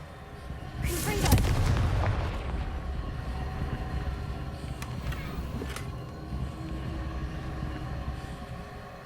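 A Confringo blasting curse goes off in Hogwarts Legacy with a heavy boom and crackle that fades into a long rumbling tail over game ambience.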